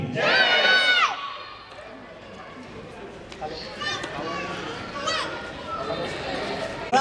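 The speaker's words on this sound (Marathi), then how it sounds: "आता माझ्या मागे एक घोषणा झाली, छत्रपती शिवाजी महाराज की." A crowd at a Shivaji Maharaj Jayanti celebration in a housing society shouts a loud slogan for Chhatrapati Shivaji Maharaj, then breaks into scattered chatter and children's voices.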